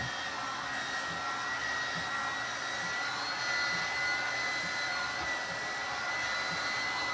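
Hair dryer similar to a Dyson runs continuously with a steady whooshing drone and a faint whine, moderately loud and unchanging throughout, with no talking.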